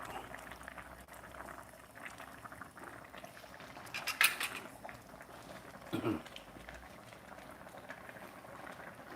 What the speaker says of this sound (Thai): ฟังเสียงมันเดือด น่ากินแล้วก็ท่านผู้ชมนี่ นี่มันเดือดนะ